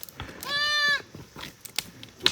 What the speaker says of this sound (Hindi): छोटी बकरी का बच्चा अपने उसमें टांग रखा है